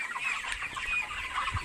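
Thirty-one-day-old broiler chickens cluck and chatter continuously inside a poultry farm shed, a dense flock murmur with no single bird standing out.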